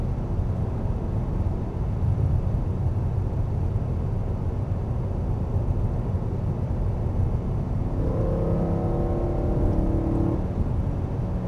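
A stock 420-horsepower BMW M3 accelerates on the Michelin test track circuit near Salon-de-Provence, its engine a steady, loud, close drone with a rising whine in the last few seconds.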